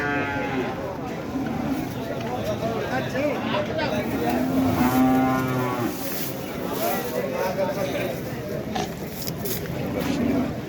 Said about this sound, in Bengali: বেশ বড় সড়ো গরু সুন্দর সুন্দর গরু বেশ বড় সড়ো গরু